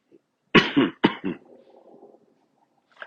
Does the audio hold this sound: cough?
yes